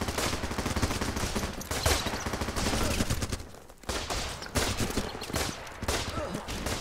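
Bursts of rifle fire from the game Running with Rifles crackle repeatedly over several seconds, with a brief lull in the middle before the shooting resumes at a similar level.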